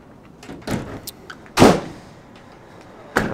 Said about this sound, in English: that allows you to open up the rear door then to 180 degrees